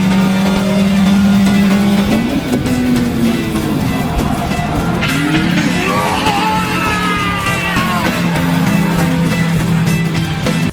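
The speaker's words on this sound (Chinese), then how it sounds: "拓海开始了真正的漂移。" A Toyota AE86 drifts in an Initial D racing anime film, its engine droning loud and sustained as the pitch climbs and shifts, with shouting voices and music layered over the roar.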